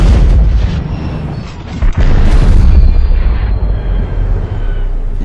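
A shotgun fires at a watermelon on a range, a loud, close boom followed by a rumbling echo and a second heavy crack as the blast rolls away.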